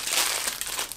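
Plastic packaging of a small Tenda S105 Ethernet switch is torn open, making a brief, loud, close crinkling and crumpling rustle that lasts about a second.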